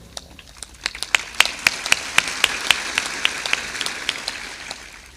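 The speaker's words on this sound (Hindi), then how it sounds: "खूब जोर से ताली बजाया करो।" Rhythmic hand clapping at a Hindi spiritual discourse, a run of about twenty sharp, evenly spaced claps that swell and then fade, mostly alone over a quiet room.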